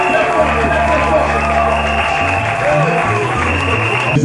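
Loud applause and cheering from a church congregation at a New Year's Eve service, sustained through the clip beneath a steady background of music and crowd noise.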